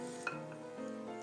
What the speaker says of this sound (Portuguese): Vou dar uma mexidinha nessa gelatina na água e já vamos botar no liquidificador.